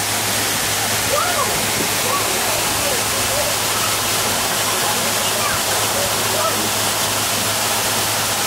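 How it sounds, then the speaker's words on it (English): A zoo waterfall pours with a constant, loud, hissing roar from close by, with voices faintly audible beneath the rushing water. "And there's a waterfall!"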